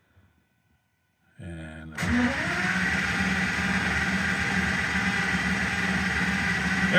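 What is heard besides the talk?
Aston Martin V12 engine cranking to build oil pressure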